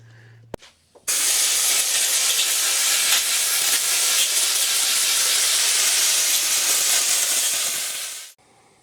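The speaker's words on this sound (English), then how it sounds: "we'll blow it out with the air compressor the other way" An air compressor nozzle blows out a dirty tractor air filter, a loud, steady, close hiss of rushing air that runs for about seven seconds after a short click and then cuts off.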